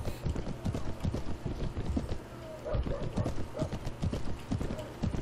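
A burro's hooves clip-clop in a steady, close rhythm while being ridden in the Mount&Blade Warband video game, running the whole time with some background game noise.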